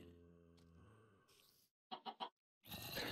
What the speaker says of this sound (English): And there is a chicken inside of it.